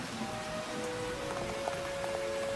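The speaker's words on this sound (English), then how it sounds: "You shouldn't be afraid of the rain." Rain patters steadily on a surface in an animated My Little Pony scene, a faint, even wash of drops that carries on throughout with no voices.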